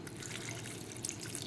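Water goes into a pot for tomato rasam with a quiet, continuous trickle and a few small drips, faint and close, with no voices.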